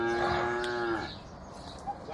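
A cow on a farm in Jamnagar gives one drawn-out moo lasting about a second, close and clear, followed by quiet farmyard background.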